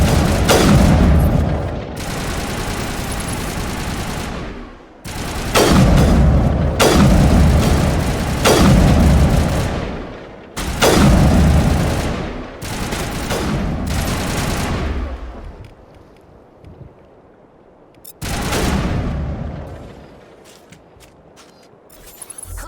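Heavy gunfire crossfire in the sci-fi shooter Mass Effect, several loud sustained bursts of weapons fire with booming impacts, separated by brief quieter gaps.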